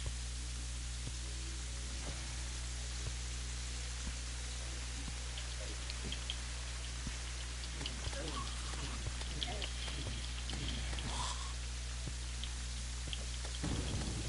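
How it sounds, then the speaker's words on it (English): Thunderstorm ambience from the video game Terraria: a steady wash of rain with scattered patter and low rumbles of thunder runs the whole time, with a voice audible at moments. "is there a thunderstorm happening outside the house? Yeah, there's just thunder."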